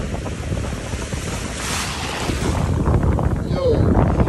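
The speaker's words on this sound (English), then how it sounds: "Look how the waves are coming." Ocean waves surging against cliffs, heard as a broad rushing roar mixed with heavy wind buffeting the microphone, loud and continuous, with voices faintly under it.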